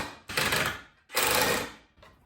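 Two bursts of buzzing power-driver whir drive small screws into wood to fit a hinge on a holiday snowman craft, each about a second long, loud and close, with a brief third start at the end.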